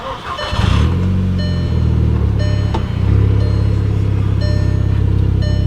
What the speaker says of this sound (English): With my foot on the clutch, we'll go ahead and fire it up.